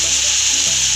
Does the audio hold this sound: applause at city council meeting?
no